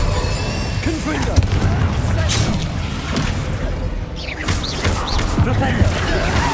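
Fire-blast Confringo spell impacts in a Hogwarts Legacy duel: several loud, close booms and crashes mixed with whooshing spell effects and busy combat noise, while voices call out over the action.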